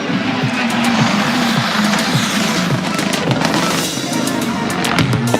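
Rally cars race flat out through a small village on a closed stage of the 34th Rallye Vosges Grand Est, engines roaring loud and sustained with fluctuating revs as they pass, with some talk mixed in.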